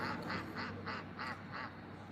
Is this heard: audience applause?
no